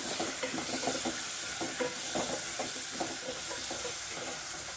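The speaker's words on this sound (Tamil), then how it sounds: "தக்காளி 1-2 வதங்கினா போதும்" Tomatoes sauté in a pan under a constant close hiss, with soft rhythmic scrapes and taps of a spoon stirring through them at a steady pace, no voices.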